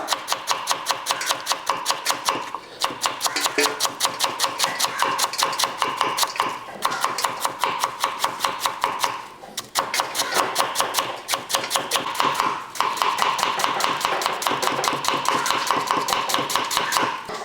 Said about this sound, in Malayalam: നമുക്ക് ഫ്രൈഡ് റൈസിന് ആവശ്യമായിട്ടുള്ള കേബേജ് കൂടി അരിഞ്ഞെടുക്കാം